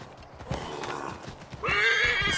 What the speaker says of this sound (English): This horse is really angry at me now.